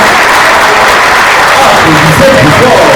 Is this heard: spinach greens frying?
no